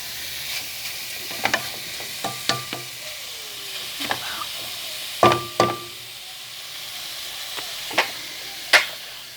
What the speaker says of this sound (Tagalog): Igigisa lang natin siya para mag golden brown.